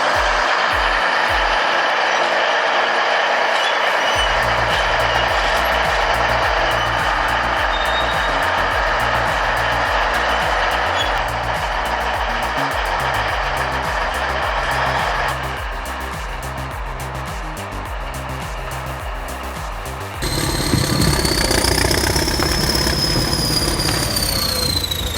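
A T-130 bulldozer, about 53 tons and over 400 horsepower, works with its blade down, its loud, steady diesel drone rumbling and shifting throughout with no speech.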